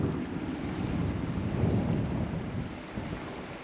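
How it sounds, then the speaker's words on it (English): Strong wind blows through a canyon near Silverton, a steady, roaring rush of air buffeting the microphone with a low rumble throughout, and no voices. "It's a pretty strong wind coming through that canyon."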